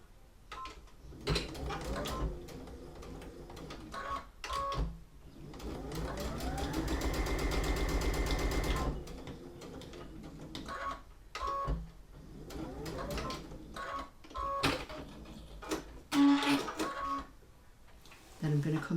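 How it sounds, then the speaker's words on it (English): Straight stitching on a sewing machine along a half-inch fold line of a quilted cushion, one steady whirring run of several seconds in the middle, framed by short stop-start bursts and someone talking. "So just sewing on the ½ inch fold line, starting at the blue mark."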